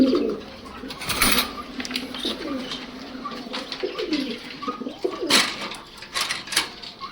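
Pigeons at a crowded pigeon and cage market give low repeated coos close by, layered over a busy background of distant chatter and clatter.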